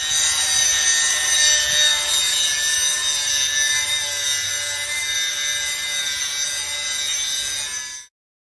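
An angle grinder fitted with a hard grinding wheel works steel, producing a steady, loud, high-pitched abrasive hiss that runs continuously for about eight seconds before stopping abruptly.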